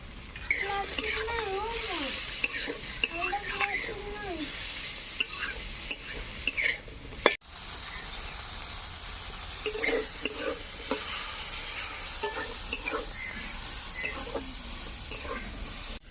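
Cauliflower leaves fry with green chillies, garlic, salt and turmeric in a pan, a continuous sizzle under repeated scraping and clinking stirs, with a voice talking through the first half.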